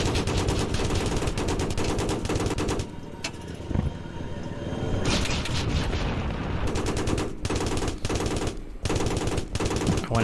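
Video game gunfire as soldiers are shot in a field, dense rapid automatic bursts that are loud and nearly continuous, with a brief lull before the firing resumes heavily.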